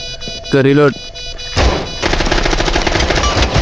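Automatic gunfire in Rainbow Six Siege, a dense rapid burst of shots running loud and continuous through the second half, after a brief tonal game sound and with a voice talking over it.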